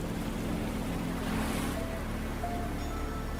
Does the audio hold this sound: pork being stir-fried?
no